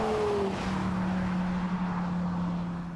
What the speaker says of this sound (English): that V10 engine delivers such a ferocious howl when it's worked